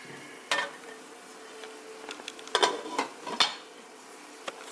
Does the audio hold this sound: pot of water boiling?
yes